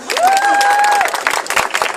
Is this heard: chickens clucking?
no